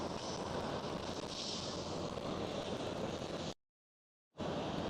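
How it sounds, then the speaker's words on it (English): A Boeing 777 freighter passes at Amsterdam Schiphol, a steady broadband jet engine roar with wind rumble filling the clip before it cuts out briefly and resumes. "It's a 777 freighter."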